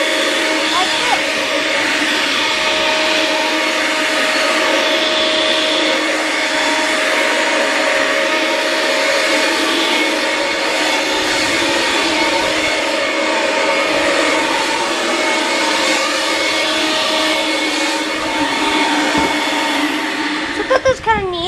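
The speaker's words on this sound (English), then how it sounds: "tell me how you like that idea of a ridgid leaf blower" A Ridgid shop vacuum used as a leaf blower roars with a loud, steady, continuous whine for about twenty seconds, close by and unbroken.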